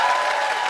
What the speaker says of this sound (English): You have to keep clapping. You can't stop.